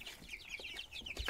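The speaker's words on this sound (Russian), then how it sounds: "Что, Смайл, отогнал курицу от зерна?" Several soft chicken clucks at a farm, faint and close, short repeated calls in an uneven rhythm against quiet background noise.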